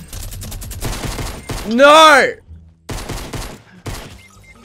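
Rapid gunfire from a minigun in the Fortnite video game rattles in close bursts broken by short gaps. A loud shouted voice briefly cuts across the shooting.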